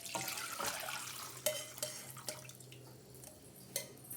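Jaggery syrup poured into a pan, with intermittent drips and splashes over a low steady hum, fairly close.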